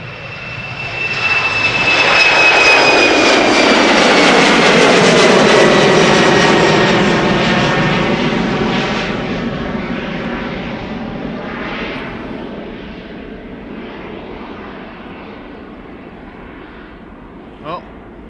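KLM flight 915 departing for Aberdeen, a loud, close jet roar with whining engine tones that builds quickly, peaks, then slowly fades as the aircraft climbs away.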